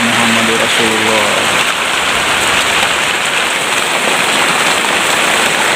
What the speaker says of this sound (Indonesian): Jadi semua air hujan masuk ke dalam rumah.